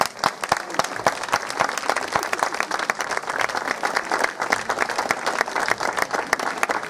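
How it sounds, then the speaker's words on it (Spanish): An audience at a folk festival gives sustained, dense applause, many hands clapping in a fast, even stream with sharper individual claps standing out, moderately loud and steady throughout. "Vamos a darle un caluroso aplauso también a un amigo como es Ayose."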